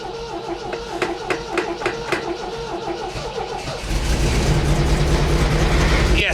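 A car engine fitted with a Weber carburetor revs hard to about 4,500 RPM, first a rough pulsing idle and then a loud, sustained higher roar close by.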